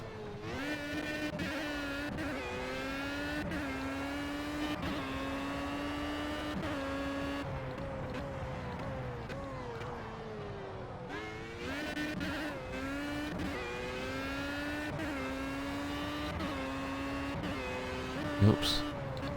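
LMP1 race car in Project CARS, engine note climbing in repeated rising sweeps with quick gear changes, steady and close throughout, the pitch dropping sharply once midway before climbing again, a faint voice talking underneath.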